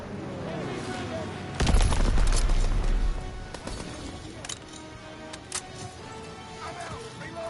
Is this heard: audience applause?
no